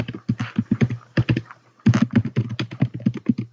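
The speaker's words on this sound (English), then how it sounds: "So I'm going to just type it" Fast, steady typing on a computer keyboard, close and crisp, with rapid runs of key clicks broken by a brief pause.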